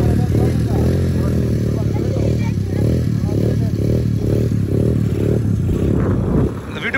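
A small child-sized motorbike engine idling steadily and loud nearby, with a continuous low rumble and clattering pulses that cut out near the end; people talk over it.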